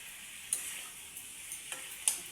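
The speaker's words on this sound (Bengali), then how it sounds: "আলু পাকার জন্য রেখে দেবে" Potatoes fry in a pan with a soft, steady sizzle, broken by a few faint ticks and light clicks of stirring, close and quiet with no talking.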